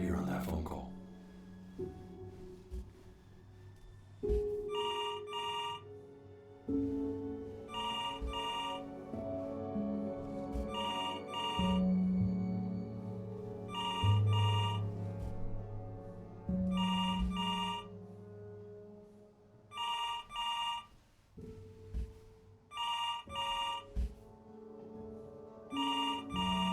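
An old telephone rings in the video game Before Your Eyes, in regular bursts of bright trilling repeated about ten times over a sustained musical score, with voices heard between rings.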